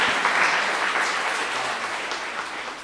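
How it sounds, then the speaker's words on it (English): An audience at a school creative writing challenge event applauds a TV station, FGTV, with steady, dense clapping that stays loud and unbroken from start to finish. "A big round of applause for our TV station"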